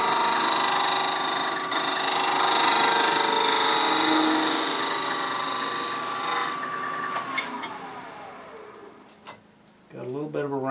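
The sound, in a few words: wood lathe planing cut on a turned wooden pear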